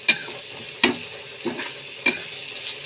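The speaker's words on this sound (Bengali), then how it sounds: "নুন হলুদ দিয়ে প্রথমে আলুটাকে ভাজা ভাজা করব" Cut potatoes with salt and turmeric fry in a wok, five distinct scrapes of stirring popping up at an uneven pace over a soft, low sizzle, no one speaking.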